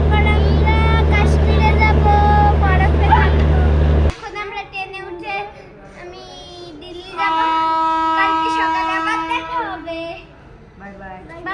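A train at a station in New Delhi rumbles loudly with a sustained horn-like tone for about four seconds, then cuts away to quieter surroundings where people talk, including a child.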